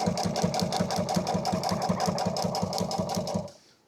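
A sewing machine stitching truck seat upholstery runs at a fast, even pulsing rhythm for about three and a half seconds, then stops abruptly. Close and steady, with no talk.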